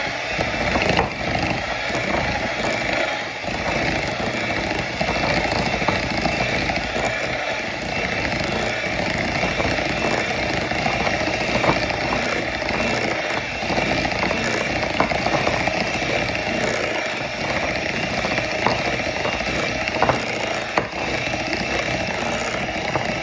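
An electric mixer whips shea butter in a bowl, giving a loud, close, continuous motor whir with a gritty buzzing texture that holds steady throughout.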